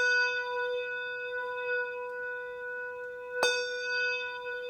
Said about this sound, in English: We can also do what's called a tower swing, and that adds kind of some swell to the bell sound.